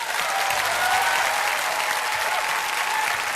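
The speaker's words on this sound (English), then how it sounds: "That's not the right applause." A prerecorded applause sound effect played during a talk show, a dense, steady roar of crowd clapping, loud and continuous for its whole length, with faint voices underneath.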